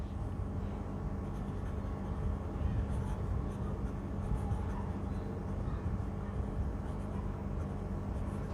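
Fountain pen inked with Krishna Pakeezah ink writing a sample on paper, a steady soft scratching that continues throughout under a constant low background rumble.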